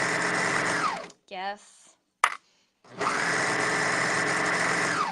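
A home sewing machine stitching in two long, steady high-speed runs with a whirring motor, separated by a short pause where a voice speaks briefly and a sharp click sounds.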